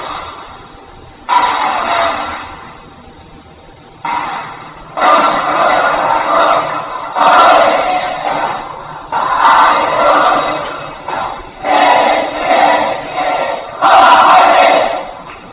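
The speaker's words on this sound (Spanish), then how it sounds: "Aplausos." A school audience at the Colegio Vicente Rocafuerte breaks into repeated bursts of loud applause and cheering, several waves of crowd noise separated by short lulls.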